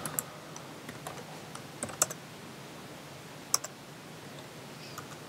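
Sparse keystrokes on a computer keyboard while writing Flutter code for a TextField listener, scattered single clicks and short bursts with pauses, quiet and close.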